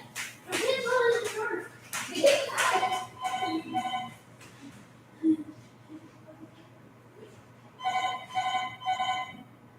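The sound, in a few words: telephone ringing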